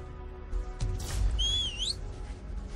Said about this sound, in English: And then we're going to whistle.